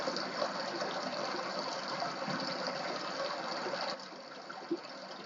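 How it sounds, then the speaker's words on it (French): A flowing stream rushes in a steady, dense wash of water noise that stays constant throughout, dipping slightly in level near the end. "Nous avons aussi le ruisseau qui coule"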